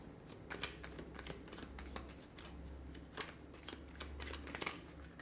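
Tarot cards being shuffled by hand, a quiet, steady riffling and flicking with several sharper snaps of cards slipping out, close and faint, with no talking.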